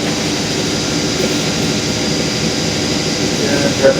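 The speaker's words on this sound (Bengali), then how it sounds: "এটা যেটা দেখালাম এটা হচ্ছে জেনারেটর মাস্টার প্যানেলে" A running generator beside its master control panel gives off a loud, steady engine drone with a broad mechanical roar that holds constant throughout, with no voices heard.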